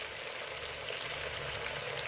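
Chicken with pepper powder frying in a pan on a low flame, giving a steady, soft hiss of sizzling oil that holds evenly throughout without any talk.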